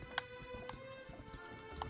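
A horse clip-clops along in Dragon Quest XI, its hooves giving a few quiet, evenly spaced knocks over soft game background tones.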